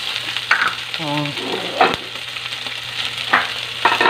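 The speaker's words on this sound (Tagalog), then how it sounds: "Pina-fry lang muna natin siya ng kaunti. At kasama ng sibuyas." Pork and onion fry in a pan, giving a steady sizzle marked by a few sharp stirring scrapes and a short tonal sound in the middle.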